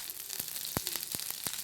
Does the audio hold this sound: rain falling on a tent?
no